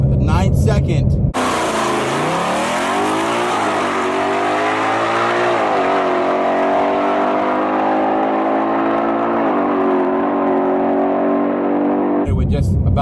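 2020 Shelby GT500 running on E85 in sport mode, pulling hard with a loud, rising engine roar through several gear shifts, framed by brief bursts of talk at the start and end.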